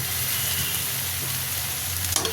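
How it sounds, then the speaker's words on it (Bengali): Bitter gourd and potatoes fry in a wok, giving a steady, fairly loud sizzle that holds without a break and with no voices. "এবার এই কড়াতে আবার এই যে অমলেট ভাজা হয়ে গেলে এই যে উচ্ছে আলু ভাজবো"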